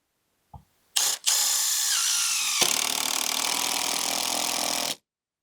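A power drill whines steadily through a short pilot hole in Trex composite decking, one continuous close burst of about four seconds after a brief click.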